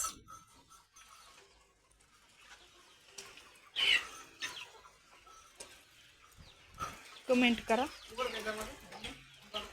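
Chickens cluck and squawk in short bursts, loudest near the end, while a person speaks briefly over them.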